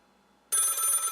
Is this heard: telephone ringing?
yes